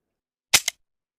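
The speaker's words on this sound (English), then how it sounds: "Looking down at the rusted pistol, I turned the safety off twice and cocked it" Two sharp metallic clicks from a rusted pistol as the safety is flicked and the hammer cocked, a loud close snap followed quickly by a softer second one, alone in silence.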